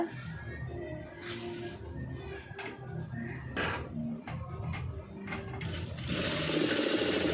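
Sewing machine stitching thread piping onto a sleeve, a near, rapid mechanical chatter in short runs broken by pauses and small clicks, ending in a louder sustained burst.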